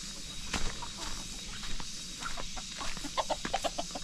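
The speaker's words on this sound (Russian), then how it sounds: "Тут у нас курица." A chicken clucking in a street in Phuket Town, Thailand, a run of short soft clucks that grows busier toward the end, faint and fairly close over low ambient noise.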